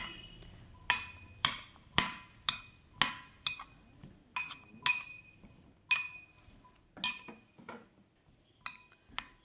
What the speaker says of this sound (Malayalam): ഇനി നമുക്ക് ഇതെല്ലാം കൂടിയിട്ട് മിക്സ് ചെയ്തിട്ട് കഴിക്കാം